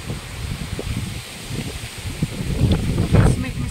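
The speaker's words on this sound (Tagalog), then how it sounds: "Mahangin talaga." Strong wind blows outdoors on a rainy morning along a path by a public sanitary facility. A low, steady roar buffets the microphone and swells into louder gusts toward the end.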